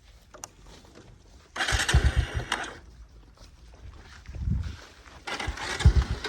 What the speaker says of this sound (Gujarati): સંજુ બાઇક ચલાવે છે